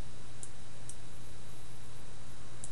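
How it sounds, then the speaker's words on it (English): A computer mouse clicks during a Photoshop selection, three sparse, sharp little clicks spaced apart over a steady background hum. "I'm just clicking and dragging."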